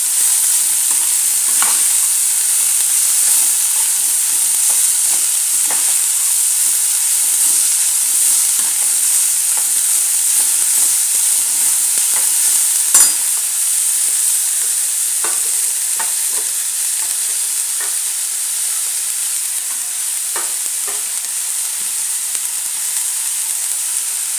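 Shredded cabbage and beans sautéing in a pan for momo filling, a steady close hiss and sizzle with occasional scraping stirs of a spatula, continuous and fairly loud with no voices.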